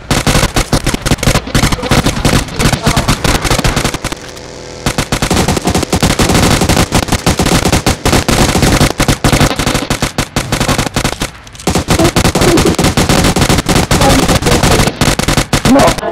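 Rapid automatic gunfire from the mobile battle royale game PUBG Mobile, loud and sustained bursts across the clip with two brief pauses, dense and close with some faint voice mixed in.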